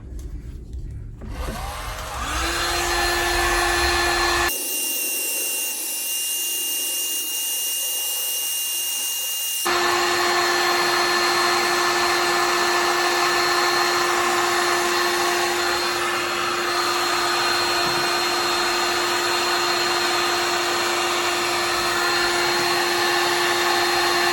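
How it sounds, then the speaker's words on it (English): An old paint stripper heat gun blows hot air with a steady, loud whirring roar and a constant tone, cutting off briefly in the middle before resuming and running on to the end. "heat is going to be provided by this this old paint stripper"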